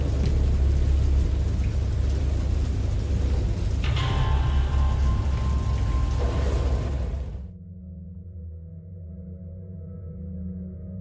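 Steady heavy rain of a great storm with a low rumbling roar, then the sound cuts abruptly to a quieter hum near the end.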